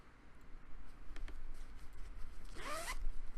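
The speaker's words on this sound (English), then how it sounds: "It's got a pink zipper and this cute little pull." A pink zipper on a small knitting project bag with a cute little pull runs in one quick, close, crisp zip lasting under half a second, preceded by faint handling rustles in a quiet room.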